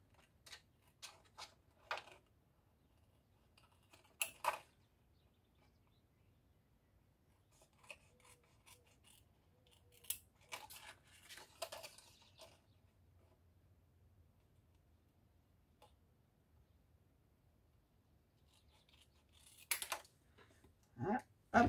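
Scissors snipping through acetate sheet, a scattering of short, quiet crisp cuts in bursts with gaps of near silence and faint rustling between them.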